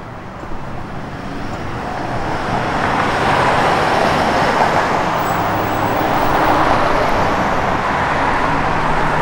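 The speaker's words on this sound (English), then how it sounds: "Again, Flowmaster dual exhaust." A 1971 Chevrolet Corvette with Flowmaster dual exhaust runs steadily, giving a continuous broad rumbling roar that swells slightly and holds throughout with no talk.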